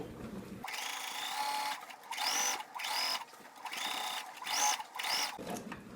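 Sewing machine running basting stitches on apron fabric in several short bursts separated by brief pauses, close and clear, with a rising whine at the start of each run.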